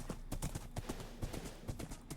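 Horse hooves clip-clopping in a video game while the player rides, a quick rhythmic run of soft thuds, faint and close, with no one talking.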